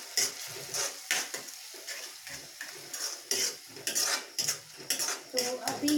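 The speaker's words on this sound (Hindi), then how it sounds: "तो इसे अच्छे से पहले मिक्स कर देते हैं।" Tomato masala with salt being mixed in a pan for bhindi do pyaza, a spoon scraping and knocking against the metal repeatedly in quick irregular strokes over a soft sizzle, close up.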